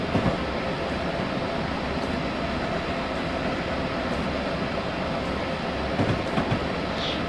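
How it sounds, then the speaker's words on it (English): A CSX freight train in Train Simulator 2015 rolls past with a steady, loud rail rumble and faint clicking wheels, continuous throughout with a few brief squeals toward the end. "I believe we just passed the CSX freight train."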